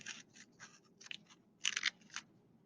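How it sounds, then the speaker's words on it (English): Several crisp snips of scissors cutting paper, close up, in short uneven bursts with a louder pair near the end. "So you will take your scissors, cut down to the bottom line."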